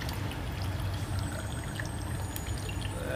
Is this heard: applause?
no